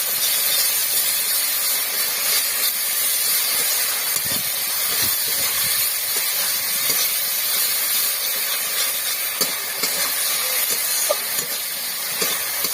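Cabbage cooking in oil with salt and turmeric, a steady hissing sizzle with occasional stirring clinks and scrapes, close and fairly loud, no voices.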